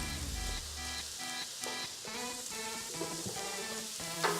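Pork chops with pineapple and bacon sizzle and crackle steadily in a hot buttered pan, a close, continuous frying hiss with small pops and a few stirring clanks.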